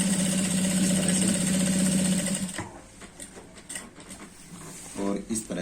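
A sewing machine runs in a fast, steady whirring burst while stitching a pant belt, then stops, leaving faint handling clicks and a brief restart near the end; a voice talks over it.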